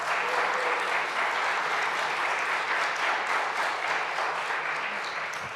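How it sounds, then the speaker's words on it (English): Sustained audience applause at a school event, dense steady clapping from many hands filling the room, holding level throughout and tapering slightly at the end. "let's give them another round of applause."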